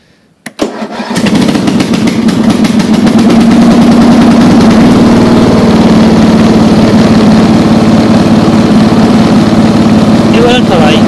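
A riding lawn mower tractor's engine, just repaired with a refitted solenoid, cranks and catches after a brief start, then runs loud and steady at a throttled-up idle for the rest of the clip, close by and alone.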